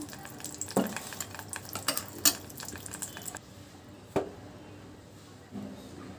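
Butter melts and sizzles softly in a pan as ghee is made, a quiet crackling bed with a few stirring clicks and light utensil taps against the pan, close but low in level.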